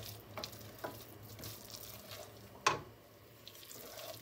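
Berbere pepper fries in a pan, a faint, low sizzle with soft stirring clicks and one sharp clatter partway through.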